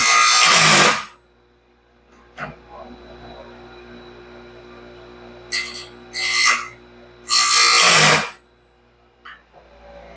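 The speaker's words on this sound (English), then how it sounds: "I can put a teeny bit of side pressure on it, barely grind the face" A grinder dresses the tooth face of a sawmill band blade under light side pressure, giving three loud, close rasping bursts separated by stretches of quieter background hum.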